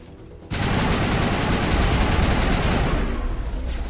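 Gunfire in Mass Effect Legendary Edition: a dense, loud, continuous volley erupts suddenly and roars without a break for over two seconds, then thins slightly, with no voices over it.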